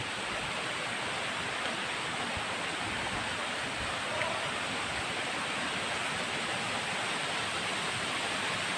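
Pho Hin Dat waterfall, a tall fall carrying a lot of water, roars in a dense, unbroken wash of noise heard close and alone.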